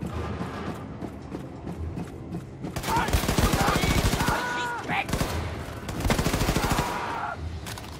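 Gunfire in the shooter game Wolfenstein II: The New Colossus: two loud bursts of rapid automatic shots, with quieter game noise between and around them.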